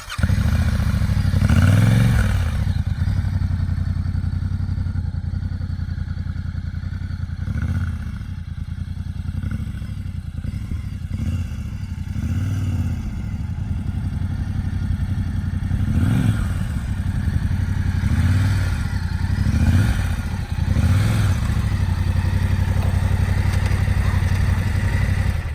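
A Yamaha Tenere 700 adventure motorcycle being ridden, its engine droning steadily up close with repeated swells of throttle and some clattering, mostly alone with no talk.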